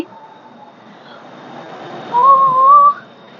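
A passing train rumbles faintly in the background, then a single steady horn-like tone sounds for under a second near the end.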